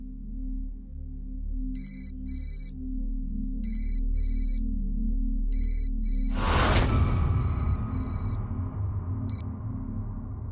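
A phone ringtone chirps in repeated bursts of electronic beeps over a low hum, and a loud rushing swell breaks in partway through, in a scene from a Hindi TV drama.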